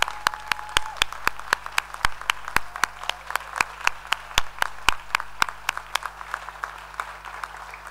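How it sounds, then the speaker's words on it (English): Graduation ceremony audience gives sparse applause, distinct individual claps ringing out in a hall over a low steady hum, with a faint tone early on and no speech. "Can we have a big round of applause for all our new graduates?"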